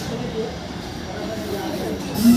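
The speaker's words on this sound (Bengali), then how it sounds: "বন্ধুরা আমাদের ট্রেন এখন ঢুকছে তার ফাইনালি গন্তব্য স্টেশন আমতাতে।" Howrah–Amta local train pulling into Amta station, a steady low rumble and hum of the moving carriages, continuous and fairly close, with a faint murmur of background sound.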